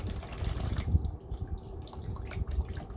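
Water runs and splashes steadily for a few seconds, a close, low rushing stream like liquid being poured out into a basin.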